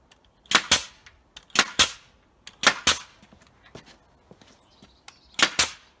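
A DeWalt DPN1850PP 18-gauge brad nailer fires in bump mode, sharp close snaps coming in quick pairs with short pauses between them, and faint handling noise in the gaps.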